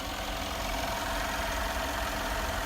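A 2017 Mercedes-Benz AMG G63 luxury SUV's powerful engine runs at a steady idle, a constant dense rumble with no revving and no talk.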